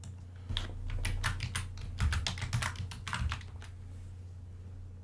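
Typing on a computer keyboard, a quick irregular run of close, soft key clicks over a low electrical hum, stopping after a few seconds.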